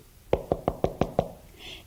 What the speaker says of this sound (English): Walter decided to knock on the door.